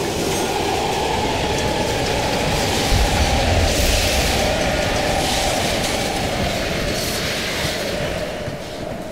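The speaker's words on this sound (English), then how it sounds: "We can use a train to slip past." A train rumbles steadily past in the Call of Duty Cold War campaign, a loud, continuous close roar with rolling wheel clatter and faint metallic squeal that holds for several seconds and eases slightly toward the end, with no voices.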